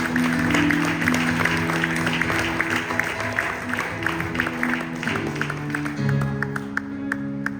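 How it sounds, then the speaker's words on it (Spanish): A church congregation claps together through a steady stretch, the dense clapping mixed with sustained music and a low murmur of voices. "Den un aplauso al Señor en el nombre de Jesús"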